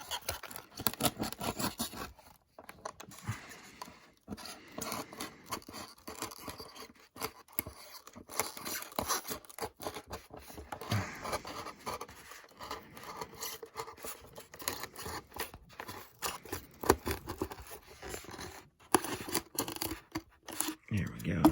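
A plastic model part for a Flightline B-24 Liberator being cut at an angle, with irregular close snips, scrapes and small taps spread over the whole stretch, with talking alongside.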